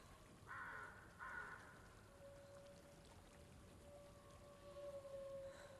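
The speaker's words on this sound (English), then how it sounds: "Raven sound getting closer." Ravens call in Hellblade: Senua's Sacrifice, two brief harsh caws near the start standing out over a faint, hissing rain-like ambience, followed by thin sustained tones.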